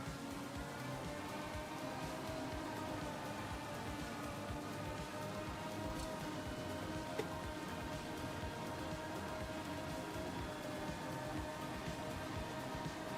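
Rain in the Formula Legends racing game, a steady soft patter of falling drops that holds evenly the whole way through without pause, with no voices.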